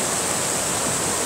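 Creek water flowing steadily, a broad continuous rushing wash close by with no talk and no pauses.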